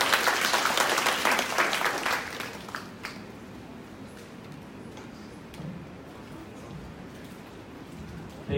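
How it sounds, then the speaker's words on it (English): Audience applause for a speaker being welcomed on stage at a conference event, broad clapping that is loud for the first couple of seconds, then thins into a scattered, softer patter that lingers to the end. "Rula, Raim, please, applause."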